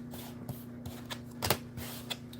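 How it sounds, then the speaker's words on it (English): Tarot cards being shuffled close up: a steady run of soft riffling and flicking sounds with a few sharper slaps, over a faint low hum and no talking. "We'll shuffle them out"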